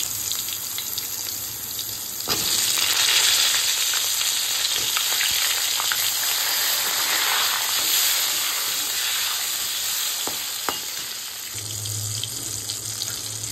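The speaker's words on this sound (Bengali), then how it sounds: "এবার কড়াইয়ে ওই তেলেই আমি বেগুনগুলিকে ভালোভাবে ভেজে নেব" Brinjal fries in a wok with a loud, continuous hissing sizzle, and a few sharp clicks of utensils break through the steady crackle.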